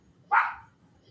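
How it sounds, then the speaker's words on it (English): Single sharp dog bark, close and fairly loud, rising abruptly then tailing off, over a quiet low background. "She's barking at the lightning."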